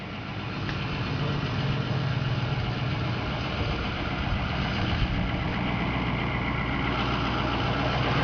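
A 2005 Ford F450 Dynamic wrecker truck engine idling, a steady, even low rumble with a constant diesel-like chug, close and unbroken throughout with no talk.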